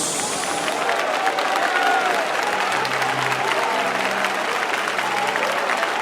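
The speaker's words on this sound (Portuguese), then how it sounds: "Pode dar aplausos." A church congregation bursts into sustained applause with some cheering, dense clapping filling the room evenly for several seconds while faint voices carry underneath.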